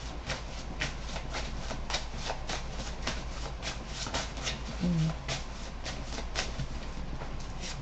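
Rapid, steady riffling of tarot cards being shuffled during a reading, a continuous rhythmic flutter of card edges at close range with a voice faintly underneath.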